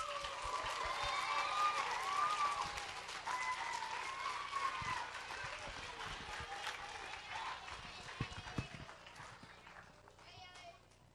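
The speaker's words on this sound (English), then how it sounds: "Why don't we give our actors and actresses another round of applause?" A church audience at Kennebec Valley Baptist Church claps for the actors and actresses, a soft, fairly distant round of applause mixed with voices and some children's chatter, gradually thinning out over the stretch.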